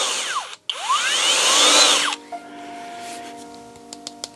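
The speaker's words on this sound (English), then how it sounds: "the 12-volt brushless drill" A HOTO 12V brushless cordless drill spins up with a rising whine, briefly stops, revs again, then winds down into quiet clicks and small handling sounds, close and fairly loud.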